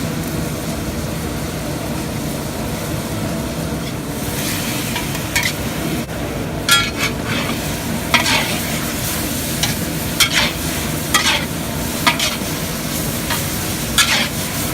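Stir fry sizzles in a cast iron stew pot over a backyard burner as sauce is added: a steady, dense frying hiss with sharp clinks and scrapes of stirring toward the end, close and without talk.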